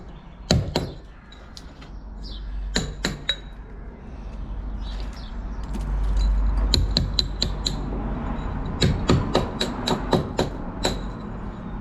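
A hammer and chisel chop old mortar out of brickwork on a garden building job, sharp metallic knocks in irregular bursts, close and fairly loud, with quieter scraping between.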